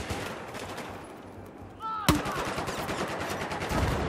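Rapid automatic gunfire in the video game Battlefield 4, a dense run of loud close bursts with a sharp crack midway, against a noisy battlefield background.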